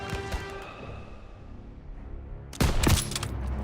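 Bursts of rapid gunfire in the Call of Duty WW2 game, a short volley at the start, a quiet stretch, then a loud sustained burst of shots near the end with no talking.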